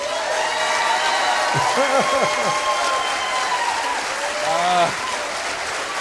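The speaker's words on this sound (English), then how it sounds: "Where's my cheer?" Audience at a stand-up comedy show cheers and applauds steadily for several seconds, with whoops and shouting voices rising through the sustained clapping.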